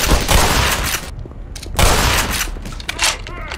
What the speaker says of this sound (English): they be shooting everyone